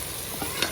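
Chicken frying in a pan with turmeric, garam masala, salt, green and red chili and fenugreek, a soft steady sizzle with a small stir clink, brief and fairly quiet.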